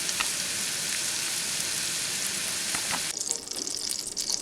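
Onions and celery sauté in butter with a steady, broadband sizzle that stays close and even. A brief stirring scrape comes near the end, and no one talks over it.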